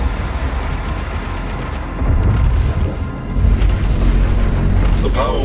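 BFG 10,000 firing in DOOM Eternal, heard as deep rumbling booms that swell over a heavy, continuous low roar of machinery, loud and sustained.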